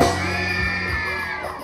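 Girls in a festival audience in Maca shout a group cheer, a loud sustained crowd yell with whoops, steady throughout and then tailing off slightly.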